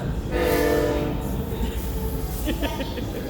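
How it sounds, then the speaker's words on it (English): A train rumbles past nearby with a brief horn blast early on, its steady roar and rattling clanks filling the background. "As the train goes by."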